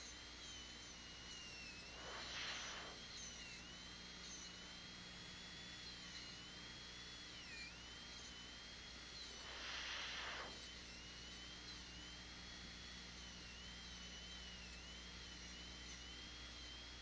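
A dental air-turbine handpiece cutting a tooth while roughing out a proximal box for a carious lesion: a steady high-pitched whine runs throughout, with two brief louder bursts as the bur bites in, no talk.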